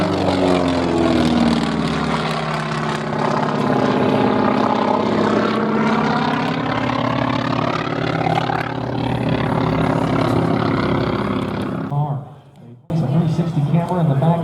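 A North American T-28 Trojan, a single-engine Curtiss-Wright powered propeller plane, drones loudly past at an airshow with a sweeping pitch shift, continuous under a commentator's talk before a brief dropout.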